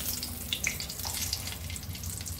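Two dry red chillies sizzle in hot oil in a wok, giving a dense, steady hiss that crackles briefly near the start and stays loud throughout.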